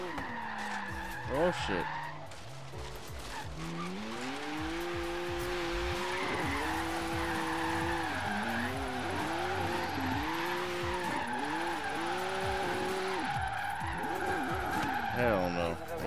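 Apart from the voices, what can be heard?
BMW M2 tandem drifting, tires skidding, from video game Forza Horizon 3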